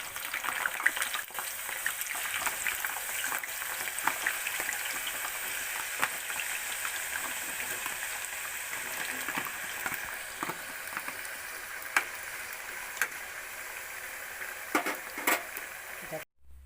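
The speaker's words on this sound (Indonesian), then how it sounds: "kentang yang tadi kita sudah potong-potong seperti dadu akan kita goreng" Diced potatoes fry in hot oil, a dense, continuous sizzle and crackle with occasional sharper pops, steady and close for the whole stretch before cutting off at the end.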